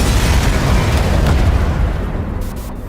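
A dense, loud explosion from the video game Watch Dogs Legion, a sustained broadband rumble and roar that slowly fades over a few seconds, with no voices.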